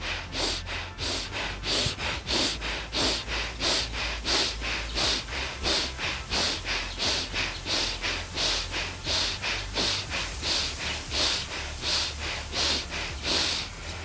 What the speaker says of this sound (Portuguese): Ins e ex vigorosamente pelas narinas.